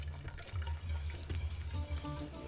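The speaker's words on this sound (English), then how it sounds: "Now we're going to add just a little bit of milk." Lukewarm milk is poured into a pan for bechamel sauce, giving a continuous soft liquid gurgle and bubbling close by, with faint sizzling underneath.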